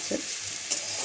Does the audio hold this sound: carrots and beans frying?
yes